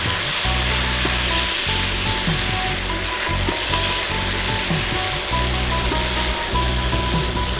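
Mutton frying in a pan with a splash of water for a ghee roast, a steady loud sizzle with a low rhythmic rumble beneath, continuous throughout with no talking.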